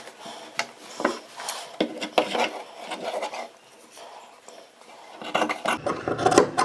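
Scissors cutting blouse fabric up close, giving a series of rasping, rubbing snips in uneven bursts that grow busier toward the end, with no talking.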